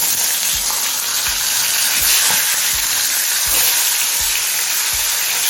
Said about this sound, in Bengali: এখন ইলিশ মাছের মাথাগুলো ভেজে নেব